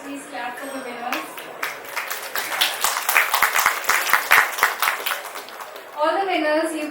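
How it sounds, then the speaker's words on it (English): An audience at a casual gaming data session claps for quiz winners. A speaker's voice leads into a few seconds of dense, scattered clapping from many hands, and talk returns as it fades. "Guys, please clap for the winners."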